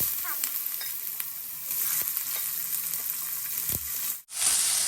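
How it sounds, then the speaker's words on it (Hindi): Cumin seeds, with jakhiya seeds, sizzle and crackle in hot oil in a pan, with a steady hiss, scattered pops and a few stirring scrapes, ending in a sudden brief dropout and a louder hiss. "जीरा यहाँ पर अच्छे से तड़क दिया है"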